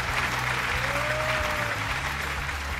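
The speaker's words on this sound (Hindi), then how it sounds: "तालियां नहीं बजाओ" Studio audience at a television game show applauds in a steady, continuous wash of clapping throughout, with a faint tonal sound briefly rising underneath.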